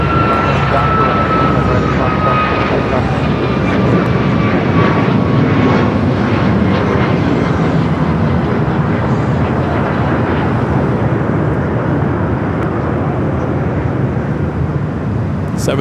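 An American Airlines Boeing 737 MAX 8 roars loudly at Los Angeles International Airport, a steady sustained jet engine rumble with a high whine that slowly falls in pitch as it passes.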